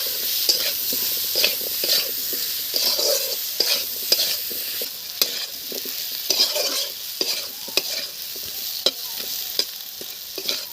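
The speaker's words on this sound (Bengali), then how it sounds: "পেঁয়াজ খুব সুন্দর করে ভাজা হয়ে গেছে দেখুন," Onions and potatoes with turmeric and chili powder sizzle steadily in a pan. A spatula stirs and scrapes through them again and again, close by, with no talking.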